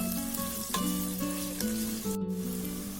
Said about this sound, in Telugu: ఉల్లిపాయ ముక్కలు కొద్దిగా బ్రౌన్ కలర్లో వచ్చేంత వరకు వేయించుకున్నాము.